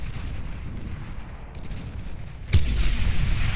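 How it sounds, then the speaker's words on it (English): A massive explosion in the real-time strategy game Beyond All Reason, with a sudden loud boom destroying a base, set against steady battle rumble and continuing as a heavy low roar. "Massive explosion right there."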